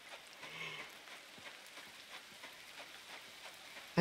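Steady soft rain falls in the farming life game Coral Island, a faint even patter with no voices, ending in a brief bright chime.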